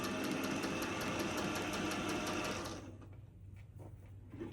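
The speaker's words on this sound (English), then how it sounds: "So we're gonna go ahead and sew that whole line." A sewing machine stitches a quilt seam on a LeMoyne Star block with a steady, rapid whir for nearly three seconds, then stops and leaves only faint room noise.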